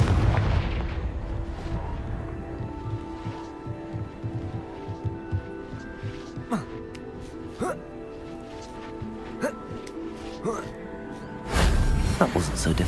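Confringo blasting spell explosions in the Hogwarts Legacy video game, a series of sharp booming bursts and crackles over tonal game music, ending with a heavier close blast.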